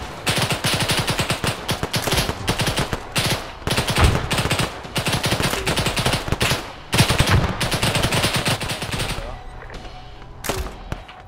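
Sustained automatic and rifle gunfire in an Arma 3 cooperative combat mission, dense overlapping bursts and shots running almost continuously at close range, loud throughout with a brief lull near the end.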